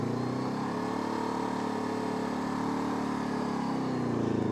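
Honda CL500 motorcycle engine idling and pulling at low revs through a U-turn, a steady close rumble with dense harmonics that swells slightly toward the end, no talk.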